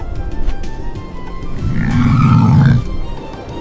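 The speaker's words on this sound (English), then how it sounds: "This is a camel. Grunt." A camel gives a deep, rumbling grunt at close range, building for about a second and then cutting off, as part of a children's animal-sounds lesson.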